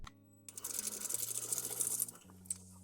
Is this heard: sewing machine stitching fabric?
yes